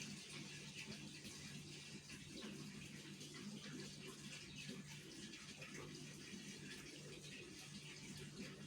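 Water pours steadily into a cooking pot while lau shak and masoor dal with bori cook, a continuous close splashing gush that runs without a break and stays at an even level throughout.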